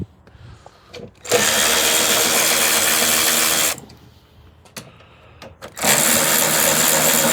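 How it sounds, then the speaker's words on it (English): An electric ratchet runs in two bursts, a long steady whir of about two and a half seconds, then a pause with faint clicks and handling noise before it starts again. The work is on a snowblower that is backfiring and leaking fuel. "Them electric ratchets are handy, ain't they?"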